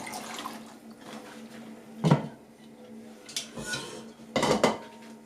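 Soaked beans drained from a pot in a home kitchen for Polish-style baked beans: clattering pot and metal knocks in a few loud bursts, with water splashing and trickling quietly between them.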